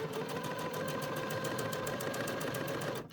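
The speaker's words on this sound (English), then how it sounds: "So you just want to sew on the white with a matching thread, with a white thread." A sewing machine stitches a white felt applique number with matching white thread: a fast, steady, close mechanical whirr with even rhythmic pulsing that runs continuously and cuts off just before the end, with no talking.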